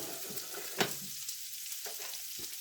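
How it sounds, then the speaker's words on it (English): Onions and celery hit hot bacon fat in a pot for clam chowder, giving a steady close sizzle and frying hiss with a sharp stir clatter near the start and a few light scrapes after. "I'm going to go ahead and add my onions and celery to this."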